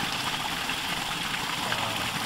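A borewell motor pipe pouring water in a steady, splashing rush, close and continuous with no voices over it.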